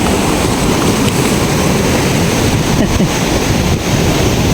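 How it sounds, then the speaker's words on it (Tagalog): Strong water current and surf at a beach resort in Claveria, Cagayan Valley: a loud, continuous roar of rushing water and breaking waves with heavy wind buffeting on the microphone, no voices. "yung agos ng tubig. Hindi ka makatawid."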